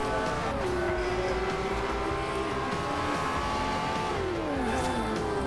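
A Lamborghini engine in Forza Horizon 2 revs hard and accelerates through rising gear sweeps, dipping at a shift near the end, loud and continuous with no talking.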